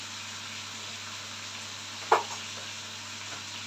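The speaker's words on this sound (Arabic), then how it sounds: "هنبدأ نقلبها كده وكده اما تاخد لون كده معانا" Okra frying in a pan gives a soft, constant sizzle, broken once by a single sharp utensil scrape partway through; no talking.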